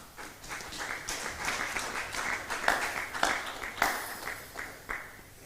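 A church congregation in Githurai clapping together, a dense, lively round of hand claps with uneven bursts filling the room, no voices heard over it.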